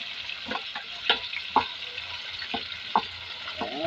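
Chicken frying in a pan for a home-cooked lunch, a soft steady sizzle with occasional sharper pops and spatters, fairly quiet and close, with no talking.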